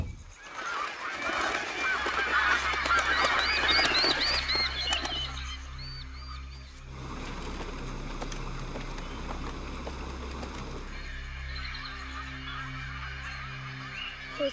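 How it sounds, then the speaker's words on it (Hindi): Birds honk and squawk agitatedly while trees are being cut, a loud dense flurry of calls and flapping in the first seconds that thins into sparser calls over a low steady drone. "हो सकता है इन चिड़ियों ने कभी किसी को पेड़ काटते हुए नहीं देखा और इसलिए परेशान हो रही है।"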